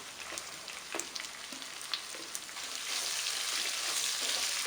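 Chopped onions sizzle steadily in a hot pan with ginger, garlic and cardamom for a chicken curry, with a close, continuous crackle that grows slightly louder and denser toward the end, broken by occasional sharp pops.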